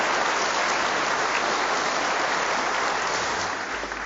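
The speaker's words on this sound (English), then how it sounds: "Give them a round of applause" A continuous, broad wash of applause from a studio audience at a motorsport legends tribute show honoring racer Larry Perkins. It is loud and even, like a hiss of rain, and fades slightly at the very end.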